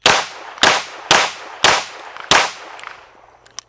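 A SIG P320 X Five Legion handgun fires five loud, sharp shots at the range, evenly spaced about half a second apart, each trailing off in a short echo before quieter clicks.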